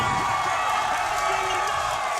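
A loud crowd at an LCS League of Legends grand finals match between Lyon and C9 cheers and whoops continuously, a dense roar of voices with scattered clapping.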